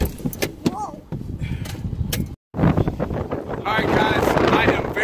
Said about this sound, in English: I am very sorry about the wind.